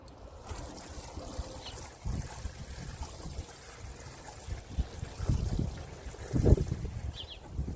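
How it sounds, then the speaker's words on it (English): Water pours over newly planted blackberry and raspberry bushes in containers outdoors, making a steady splashing and trickling wash that swells louder toward the end, with no voices. "and now I'm going to water them."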